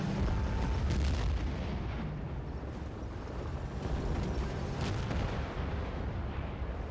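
Rocket launcher explosions and gunfire in Battlefield 1943, a dense, continuous barrage of booms and blasts at moderate loudness with no voices over it.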